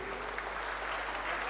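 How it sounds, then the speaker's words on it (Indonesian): Applause from an audience at a university student orientation entrepreneurship talk show in Bima, heard as a steady, faint wash of clapping throughout with no talk over it. "Tepuk tangan dulu untuk"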